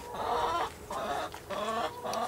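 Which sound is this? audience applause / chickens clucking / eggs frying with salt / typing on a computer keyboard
chickens clucking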